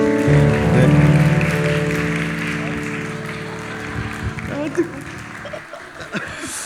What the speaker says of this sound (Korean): 두 분 들어가실 때 박수 한번 부탁드립니다